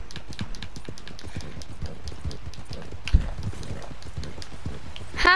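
Rapid hoofbeats of a horse in Red Dead Redemption 2 clop in a steady galloping rhythm, moderately loud, with a sharp thud partway through and a brief squeal at the end.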